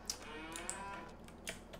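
Cows mooing in the farming video game Farming Simulator 22, a few overlapping low bovine calls carrying steadily across a short stretch with no talk over them.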